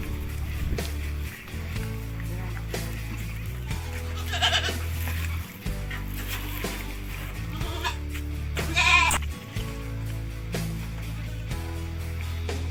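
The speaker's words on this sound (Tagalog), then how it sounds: "Update kayo sa mga kambing namin kasi naanak yung isa." Goats bleating on a farm, including a newborn kid, with repeated close, loud bleats over a steady low hum.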